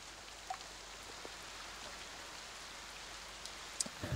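Rain falls steadily as a soft, even hiss of drops on surfaces, with a few faint taps and knocks scattered through, fairly quiet and continuous without speech.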